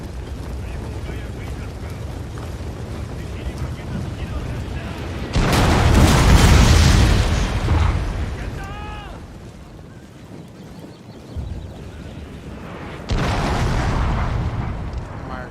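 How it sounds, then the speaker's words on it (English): Artillery bombardment in the Shogun 2 Total War video game gives deep, rumbling booming blasts in two loud surges, separated by a quieter stretch with faint scattered sounds. "Artillery automatically starts firing on them when they're in range"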